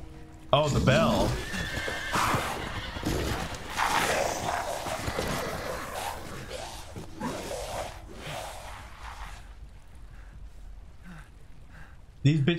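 Horses in the game Resident Evil Village neigh and whinny repeatedly, loud and close, with breathy snorts and a few hoof sounds, fading toward the end before a final burst.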